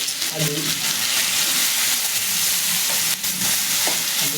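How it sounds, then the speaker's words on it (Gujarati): Garlic, green chili and ginger paste sizzles steadily in hot oil in a pan, a continuous close frying hiss with faint stirring scrapes and occasional clinks of a spoon. "તેલમાં પેસ્ટ નાખી દેવાનો આપણે લસણ મરચાં આદુ"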